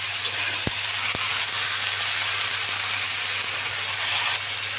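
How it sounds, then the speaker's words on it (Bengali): Malabar spinach leaves stir-fry in a hot pan with a steady, loud hiss of sizzling that fills the whole stretch, broken by a couple of sharp knocks early on, and no one talking. "দিয়ে আমি সুন্দরভাবে নাড়াচাড়া করে কষাই নেব।"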